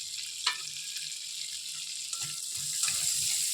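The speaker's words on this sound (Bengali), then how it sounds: "এবারে ওই তেলের মধ্যেই দিয়ে দিচ্ছি ফোড়ন আর শুকনো লঙ্কা" Whole spices and dried red chilies dropped into hot oil left from frying fish, a bright hissing sizzle with a few sharp crackles and spits, steady and close with no voices.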